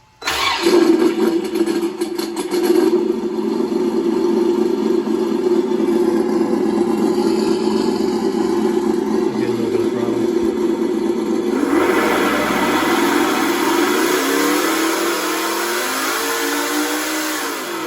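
Simulated engine sound from an RC sound module: a synthetic start-up, then a steady loud idle drone that shifts and revs near the end.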